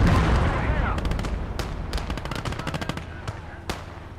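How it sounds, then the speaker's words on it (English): Cannon and gunfire from a German StuG assault gun's 75mm gun engaging Soviet tanks in the WWII game Call to Arms – Gates of Hell: Ostfront, with sharp repeated blasts over a dense battle rumble. "Taking control of our Stug here and get some rounds down range on these tanks."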